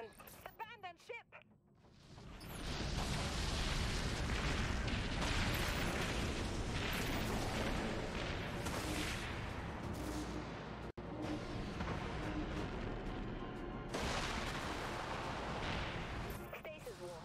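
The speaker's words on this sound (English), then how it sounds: "Enemy missiles incoming, Captain." Missiles strike a ship in the video game Dreadnought: after a few clicks and a short voice, a sustained loud roar of blasts and crackling impacts follows, with a brief cut and renewed surges. Voices sound intermittently beneath the barrage.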